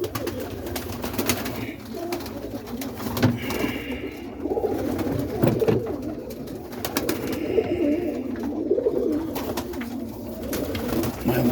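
Roller pigeons coo in a loft, with steady low, throaty cooing from several birds running throughout at close range, plus light rustling and occasional background noise.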